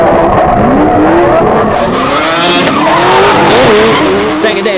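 Drift cars chasing at a D1NZ drifting round in Tauranga, a big Holden Commodore among them, tyres squealing in long wavering howls over loud engine roar, close and intense throughout.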